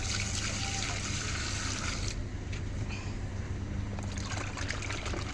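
A steady stream of water pours and splashes over large fish being washed by hand, a near, continuous trickling rush with a brief dip midway.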